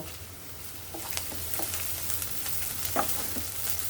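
Chopped onions fry in hot oil as a steady close sizzle with scattered crackles and pops and a few stirring scrapes, without any talk.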